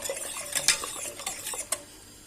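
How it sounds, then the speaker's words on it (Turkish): Chocolate sauce for profiteroles cooks on a stovetop while a utensil stirs it round and round in one direction, making soft scraping and clinking against the pot over a faint bubbling hiss. "Tekrardan aynı şekilde sürekli aynı yönde karıştıra karıştıra çikolata sosumu da pişiriyorum."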